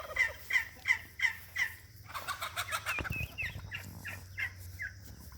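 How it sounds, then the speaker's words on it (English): Young chicks on a homestead peep in a quick series of high chirps, first evenly spaced, then faster and overlapping, close by, with a brief thump midway. "These are our youngest little chicks."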